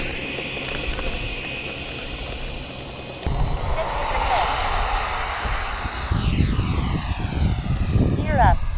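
An RC model airplane drones overhead while flying the pattern at an airfield, its engine pitch rising and shifting as it passes, with people talking nearby.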